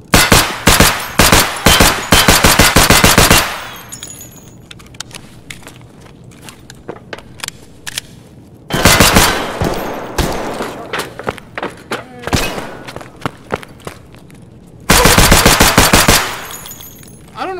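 Rapid automatic gunfire firing PST rounds in the video game Escape from Tarkov, three loud sustained bursts separated by quieter stretches with scattered single shots and thuds, while someone talks between the bursts.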